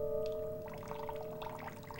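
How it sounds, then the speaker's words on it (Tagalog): Water gushes from a tap for a shower, a steady pouring splash over a faint tonal hum. "Ayan, may tubig!"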